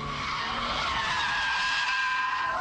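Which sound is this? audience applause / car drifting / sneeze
car drifting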